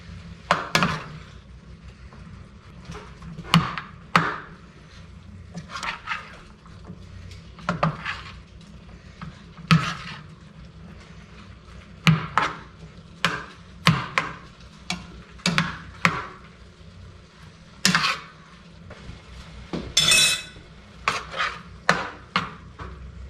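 A whisk stirs sauce in a pot with repeated bursts of scraping and clinking against the metal, spaced a second or two apart, close by with no talk.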